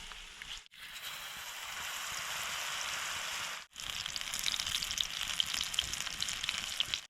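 Pakoras frying in a pan of hot oil, a steady, dense crackling hiss close by that briefly cuts out twice, with no voices.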